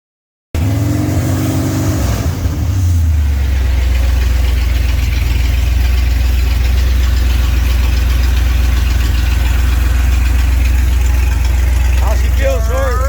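A 1965 Chevrolet Impala with a rebuilt 327 V8, exhaust not yet welded, starts and settles into a loud, steady, rumbling idle close by, with a brief voice near the end.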